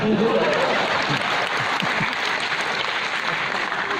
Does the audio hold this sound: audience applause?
yes